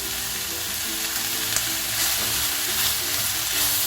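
Onions sautéing in a pan with salt, part of preparing a full chicken roast: a steady, close sizzle that holds throughout, with soft scraping as they are stirred.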